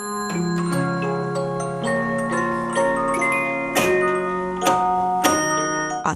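A late 19th-century music recording plays back a tinkling melody of bright, plucked, bell-like notes, steady and fairly close, with no voices.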